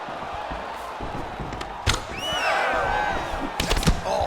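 An arena crowd at a UFC 4 video game fight swells and cheers in the background, with scattered thuds and impact hits cutting through the noise.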